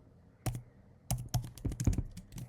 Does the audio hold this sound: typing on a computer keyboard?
yes